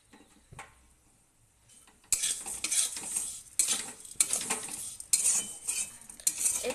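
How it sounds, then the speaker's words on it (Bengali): Vermicelli (semai) frying in ghee in a pan: near, quiet at first, then from about two seconds a steady run of metal spoon scrapes and clinks against the pan over a soft sizzle. "ঘি দিয়ে সিমাইটা ভাজা হচ্ছে।"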